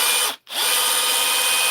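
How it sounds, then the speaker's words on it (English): A power drill whirs in ordinary drill mode, a loud high steady whine that cuts out briefly and spins back up. "That's ordinary drill."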